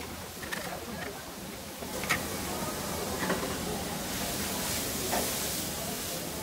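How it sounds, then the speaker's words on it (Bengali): Grated carrots sizzle steadily in a hot pan for a halwa, a dense continuous frying hiss with faint crackles throughout, no voices. "ওটাকে আমি একটু ভেজে নিব।"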